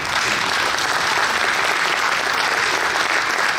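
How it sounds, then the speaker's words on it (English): An audience applauds museum archivists and preservationists from the Wartime Museum, a dense, steady wash of clapping from many hands that stays loud and even throughout without pause. "Give them an applause."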